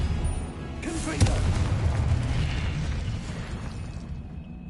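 In a video game, a blasting spell goes off with a sharp single crack and booming burst, then a sustained rumbling roar that slowly fades.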